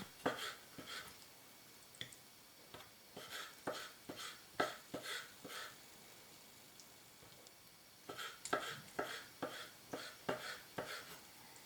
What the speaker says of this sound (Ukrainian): Гриби нарізаємо так, щоб не втратити їх цікавий вигляд в страві